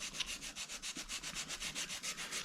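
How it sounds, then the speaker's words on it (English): A scalpel blade is stroked back and forth on a sharpening stone in a steady, even rhythm of about eight rasping passes per second, close and moderately loud with no voices. "So you sharpen your blade."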